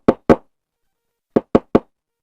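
Knuckles knocking on the front door of a quiet village house at dusk: two quick raps, a pause, then three more, crisp and close with nothing else around them.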